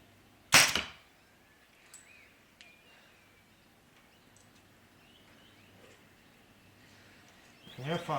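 Single arrow loosed from a PSE Dominator Duo compound bow: a sharp, loud snap of string and limbs near the start, then quiet outdoor ambience with faint distant ticks, and a brief voice at the very end.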